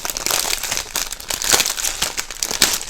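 Plastic packaging of a diamond painting kit being torn and opened, close dense crinkling and crackling in rapid irregular bursts for several seconds, with no talking.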